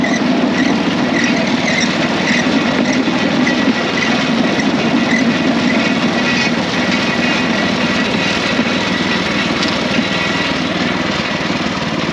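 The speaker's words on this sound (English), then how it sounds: "the bamboo train comes through, so they just stop" A bamboo train in Battambang, Cambodia rolls steadily along the rails, its small engine droning and the wheels clattering loud and close in one continuous rumbling roar with faint squeals.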